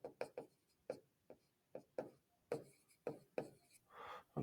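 Pen or chalk strokes while working a L'Hopital's rule calculus problem by hand: a quiet, close series of short scratchy taps and strokes in an uneven rhythm, with a longer scrawl near the end.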